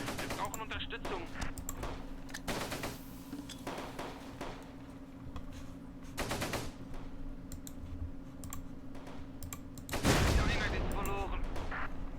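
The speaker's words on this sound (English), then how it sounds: "Really nasty artillery strikes there." Artillery strikes land in the Close Combat wartime strategy game as several sharp crackling blasts, with a heavier booming impact near the end, over a steady low battle rumble.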